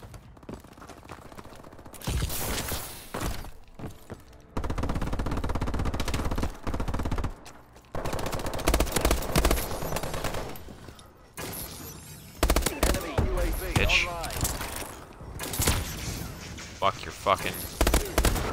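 Turret gunfire in Call of Duty: Advanced Warfare, loud bursts of automatic fire starting and stopping in repeated stretches, with mechanical clatter in the gaps.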